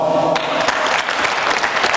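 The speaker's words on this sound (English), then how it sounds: "Please give them a round of applause." An audience at a school hackathon idea showcase applauds standing volunteers, a close, loud burst of dense clapping that rises quickly after a voice trails off and continues evenly.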